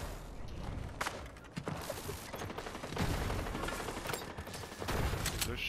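Gunfire in the video game Fortnite, a dense spread of distant shots in bursts and volleys over steady background game noise, with no voices.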